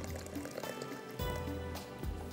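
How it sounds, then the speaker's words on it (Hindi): Water is poured into a cooking pot of dal in a home kitchen, a soft, near trickle and splash that rises and falls over a couple of seconds, fairly quiet with faint background noise. "मैंने इसमें डालना है थोड़ा सा पानी"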